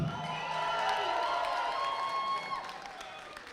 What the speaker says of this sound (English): I would like a massive cheer for every single one of these fantastic candidates